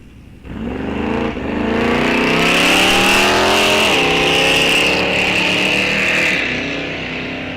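Drag race cars launch at Rock Falls Raceway in an ET bracket race, engines roaring loudly as they accelerate hard through several rising gear pulls, close and sustained, then fading slightly into the distance.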